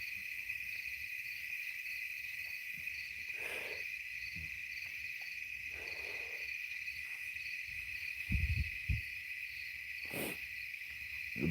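Crickets and other night insects chirp steadily outdoors on a farm at night, a continuous high trill with a few soft thumps and rustles nearby, no talking.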